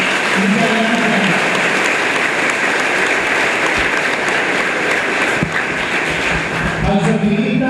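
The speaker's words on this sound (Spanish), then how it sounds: "También quiero un fuerte aplauso a la dueña de la casa y a todos los que ayudaron." Dense applause from an audience at a diocesan Bible students' gathering, a steady wash of clapping filling the room throughout with some voices mixed in, no clear individual claps standing out.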